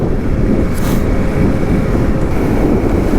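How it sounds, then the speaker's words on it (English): A dense, steady engine roar with rushing wind, loud and continuous throughout, the intake of a Honda CRF300L motorcycle droning at speed. "All you hear is the bike intaking versus exhausting"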